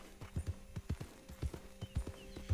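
A horse in Red Dead Redemption 2 clip-clops along at a steady trotting rhythm, the hoofbeats soft and fairly close with no talking.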